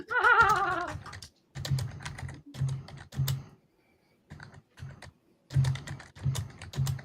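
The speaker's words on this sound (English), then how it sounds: "I can hear you clickety clacking" Typing on a computer keyboard during an online Dungeons & Dragons session, bursts of rapid clicky keystrokes with short pauses between them, close and fairly loud, after a brief voice at the start.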